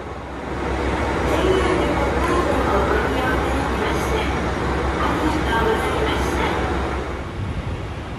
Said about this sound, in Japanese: 隣のホームには釧路からの新徳行き普通列車がやってきました。